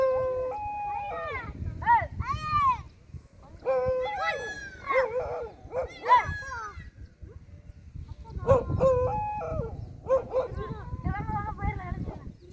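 A village dog barks and howls in drawn-out, rising wails and yips, several bursts across the stretch, fairly close, with children and adults talking and calling underneath.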